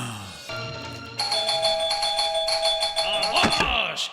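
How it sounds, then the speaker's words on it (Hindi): A doorbell chimes indoors with several bright, ringing tones that sustain and overlap for a few seconds, loud and close, followed by a brief clatter near the end. "मेरे दरवाजे की घंटी किसने बजाई?"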